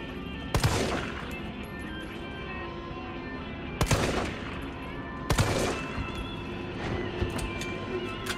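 Gunfire in the Resident Evil 3 video game: three sharp, loud shots spaced a few seconds apart over a quiet game ambience, with a fainter crack near the end.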